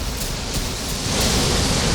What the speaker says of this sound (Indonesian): Semoga hujan ini tidak lama.